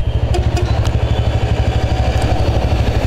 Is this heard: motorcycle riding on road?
yes